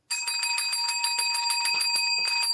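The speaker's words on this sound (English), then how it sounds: "He had to ring his own bell." A bell rings again and again in fast, steady strokes with bright, sustained metallic tones. It sounds close and loud and carries on for the whole stretch with no voices over it.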